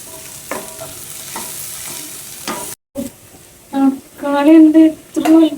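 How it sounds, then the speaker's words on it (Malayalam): Kappa biryani masala, a tapioca biryani base, sautés in a pan with loud frying and repeated stirring scrapes up close. A brief pause follows, then voices talk over the sizzle near the end. "വഴറ്റിയെടുക്കണം."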